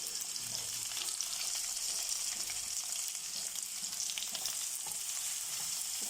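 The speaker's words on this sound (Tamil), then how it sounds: "2 பக்கமாக திருப்பி போட்டு நம்ம ஒரு 5 minutes ஃப்ரை பண்ணி எடுத்துக்கலாம்." White pomfret fish coated in masala frying in hot oil on a medium flame, giving a steady, even close-up sizzle with fine crackling and no talk.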